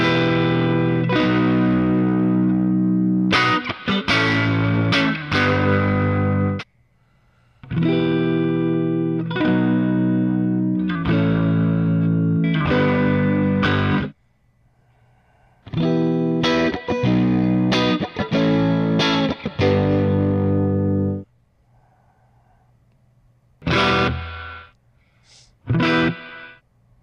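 Electric guitar through a cranked Magnatone Varsity Reverb amp with upgraded speaker and tubes, loud distorted chords and bursts in several phrases separated by short silences and amp hum, close and alone.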